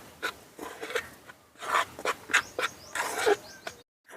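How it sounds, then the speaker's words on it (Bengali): Rice flour and maida dough being kneaded by hand for papad makes soft, intermittent rubbing and squishing sounds in uneven close bursts, fairly quiet with short pauses between. "এবার আমি চালের গুঁড়ো আর ময়দাটা ভালো করে মেখে নেব।"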